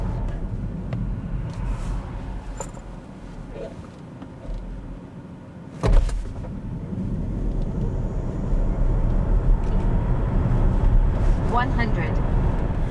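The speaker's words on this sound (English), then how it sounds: "Now I went to sport mode and we're gonna do the acceleration." Steady road and motor rumble builds with a brief thump, then a rising whine as a BMW iX3 xDrive50 electric car accelerates hard in sport mode with launch control; no talking.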